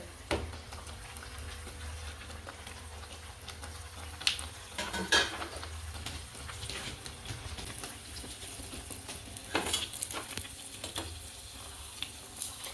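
Kajjaya, a sweet Deepavali dough, frying in hot oil on a low flame, with a steady soft sizzle and bubbling and a few clinks of utensils against the pan.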